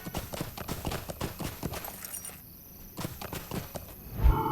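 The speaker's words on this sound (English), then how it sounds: "here's a horsey" A horse's hooves clip-clop at a brisk, regular walking pace in the Lord of the Rings Online video game, pausing briefly midway before resuming, followed by a short thump at the end.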